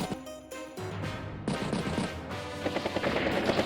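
Battlecopter attack in Advance Wars, a rapid machine-gun style rattle of repeated gunshots with crashing impacts, steady and moderately loud after a brief musical opening.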